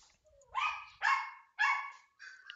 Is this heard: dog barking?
yes